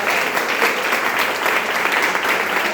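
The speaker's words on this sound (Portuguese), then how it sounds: "Dê uma salva de palmas para o Senhor Jesus" Loud, sustained applause from a large church congregation, continuous clapping filling the room for a few seconds.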